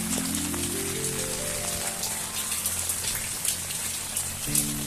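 Steady rain falling outdoors, a soft continuous patter and hiss of drops on surfaces, with a low tonal hum gliding upward early on and near the end.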